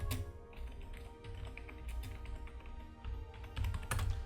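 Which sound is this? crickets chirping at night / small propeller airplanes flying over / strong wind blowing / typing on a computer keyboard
typing on a computer keyboard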